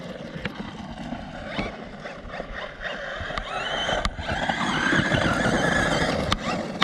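A Kraken RC VESLA.5 large-scale RC car drives off-road, its motor whining and rising in a loud, continuous rush with scattered knocks and crunches from the terrain.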